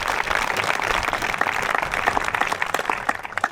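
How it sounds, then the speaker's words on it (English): Applause at a high school graduation ceremony in Hohenfels, honouring three people: a lively patter of many hands clapping at steady strength, with individual claps standing out near the microphone. "Please join me in a very warm applause for these 3 amazing patriots."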